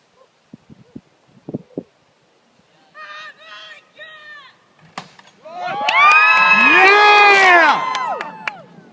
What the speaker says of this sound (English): Give it a cheer as it goes.